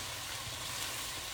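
Taco-seasoned tomato sauce for spaghetti squash boats simmering in a pan, a faint steady sizzle and bubble with no voices.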